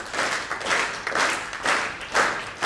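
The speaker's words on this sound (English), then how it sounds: "you're just going to start to clap a simple rhythm" An audience claps a simple rhythm together with eyes closed, the massed handclaps swelling into loud periodic bursts about every half second as the crowd falls into unison, with no talking.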